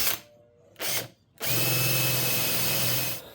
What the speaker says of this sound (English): I'm going to drill the hole for the hardware.